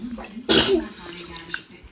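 A single sharp sneeze bursts out close by, followed by quiet room sounds and faint background voices.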